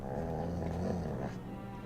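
A dog in the video game Dragon Age 2 growls and barks, a low continuous rumbling growl with a throaty bark-like swell, close and steady throughout.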